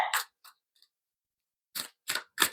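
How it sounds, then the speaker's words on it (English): Tarot cards shuffled by hand, giving three quick riffling bursts after a couple of short soft rustles and a pause, close and fairly quiet. "I'm just gonna shuffle them this way."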